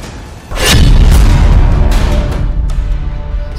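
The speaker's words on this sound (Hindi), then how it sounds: "मिसाइल ब्लास्ट से शुरू हुआ।" A missile blast strikes in the middle of the night, a sudden deep boom followed by a long, heavy rumble that stays loud and sustained for several seconds with scattered crackling debris.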